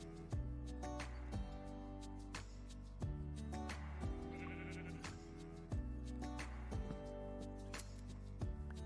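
A sheep in the video game Minecraft bleats repeatedly at a quiet level over steady background game music with regular soft beats.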